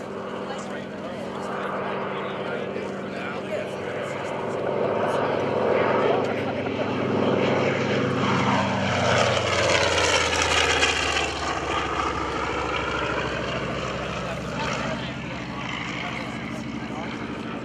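A TBM Avenger propeller torpedo bomber passes at an airshow, its radial engine drone swelling to a loud roar and sweeping pitch as it flies by, then fading, with an announcer speaking over it.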